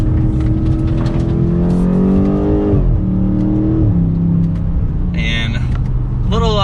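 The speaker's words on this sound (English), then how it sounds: "We get pops in that exhaust." A 2022 BMW M8 Competition coupe, an all-wheel-drive car with over 600 horsepower, accelerates mildly with a loud, close engine drone rising and falling in pitch, closing with a couple of sharp exhaust crackles.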